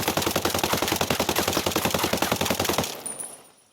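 An AK rifle with an angled foregrip fires from the hip in Ghost Recon Breakpoint, loud rapid automatic bursts hammering in a fast steady rhythm for nearly three seconds before cutting off into a brief fading tail.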